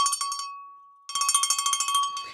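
A small bell rings in two quick bursts of rapid, bright strikes with a short pause between them, loud and close, with no voices.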